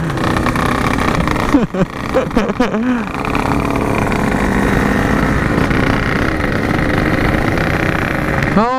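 Loud Yamaha RX King two-stroke motorcycles revving hard in dense night street traffic, with a steady close engine roar throughout and rising and falling rev sweeps near the start, plus a brief voice.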